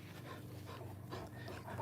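A Cane Corso pants close by in quick, quiet rhythmic breaths that continue steadily without pause.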